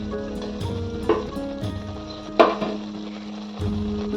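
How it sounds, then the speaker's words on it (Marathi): Bottle gourd (lauki) kofta balls frying in oil, a steady sizzle with a few sharper spatters and scrapes of a utensil, no talking. "या प्रकारे आपण सर्व वडे तळून घेऊया."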